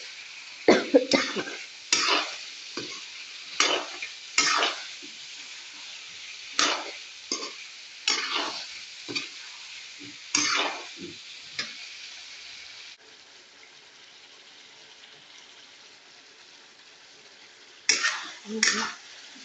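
Fried potatoes and fried eggs stirred together in a pan, a spatula scraping and clattering in quick irregular bursts over a soft sizzle, then a quiet stretch before a final flurry of scrapes near the end.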